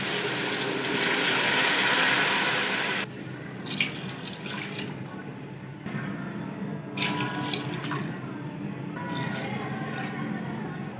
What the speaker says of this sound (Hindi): तो अब हम पानी डालेंगे। सबसे पहले यखनी वाला पानी डालेंगे हम।